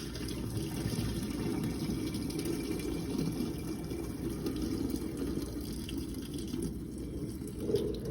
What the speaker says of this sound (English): Now I'm just draining my spaghetti.